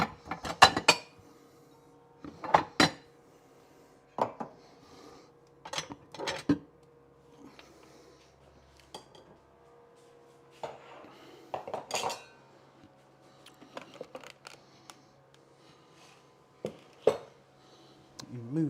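Pots, pans and cutlery clatter and clink in a home kitchen during lasagne preparation, with repeated sharp metallic knocks and rattles spread irregularly over a quiet background and no clear speech.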